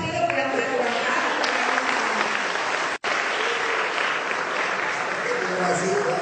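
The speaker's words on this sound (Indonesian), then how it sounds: "kita tepuk tangan dulu buat Bapak" A crowd applauds continuously at an indoor official gathering in Jakarta, dense clapping from many hands, with a brief cut in the middle before the clapping carries on.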